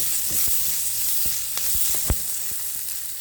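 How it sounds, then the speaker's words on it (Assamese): Onions sizzle in a pan for egg curry, giving a steady close frying hiss with a few soft stirring knocks and one sharper clack, and no voices. "পিঁয়াজখিনি অকণমান ৰঙচুৱা হৈ লওক"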